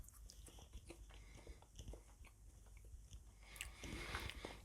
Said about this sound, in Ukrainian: Квітка легко прожовується